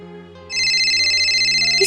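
A mobile phone ringtone for an incoming call, a loud electronic tone that starts faintly and then rings steady and close over a low background hum.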